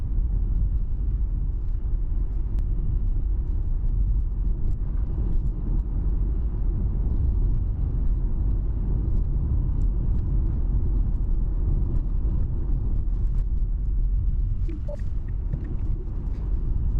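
A car drives along a road under driver-assist, a steady loud low rumble of tyres and engine, continuous with no talk.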